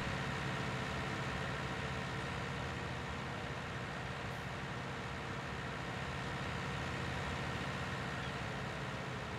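A tractor engine in Farming Simulator 19 holding a steady, low, unchanging drone for the whole stretch, moderately quiet with no breaks.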